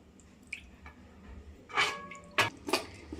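Cut fish pieces being rinsed in a bowl of water for a fish kulambu, giving a few soft, wet splashes and drips in a quiet kitchen, the strongest sloshes clustered near the end.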